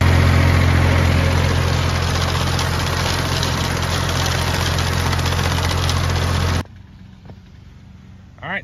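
A David Brown tractor engine runs steadily and loud while cutting thick hay, a constant low droning rumble that cuts off abruptly near the end, leaving faint background sounds.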